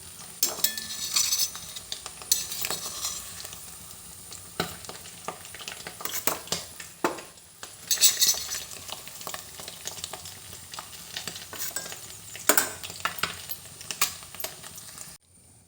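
Eggs frying in ghee for an egg ghee roast, a soft steady sizzle broken by repeated clinks and scrapes of a spoon stirring against the pan, close and without talk.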